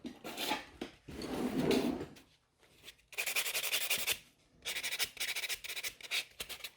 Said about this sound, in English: So when I'm buffing the sides, I kind of brush it away.